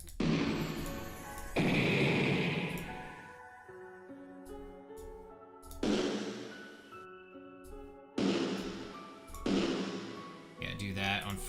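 Explosion effects for an RPG video game, made by a voice imitating repeated booming, rushing bursts that swell and fade several times, mixed with people talking.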